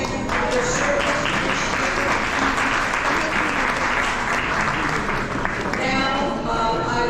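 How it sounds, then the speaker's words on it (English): An audience at a Christmas luncheon applauds in a long, steady round of clapping, fairly close and full, with a voice briefly heard near the end. "So, can we have a round of applause?"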